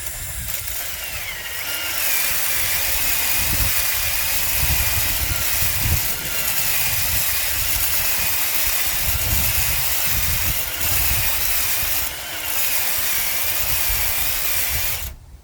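Freshly rebuilt two-stroke dirt bike engine runs with a continuous raspy, whining buzz for over ten seconds, with brief dips in loudness and wind noise mixed in outdoors.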